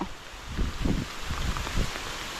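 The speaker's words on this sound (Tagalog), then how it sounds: "Patay tayo na to, lumakas ang ulan." Steady, dense rain hisses across the whole clip in the mountains, with soft patters of drops hitting a nearby surface.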